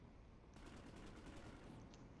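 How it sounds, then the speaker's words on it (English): Rapid bursts of automatic gunfire from the video game PlanetSide rattle quickly over a muffled, rumbling background, faint and somewhat distant. "Oh, I can hear gunshots."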